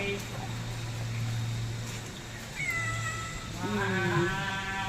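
A pregnant cat gives a couple of clear, drawn-out meows in the latter half, over a low background hum and faint human voices.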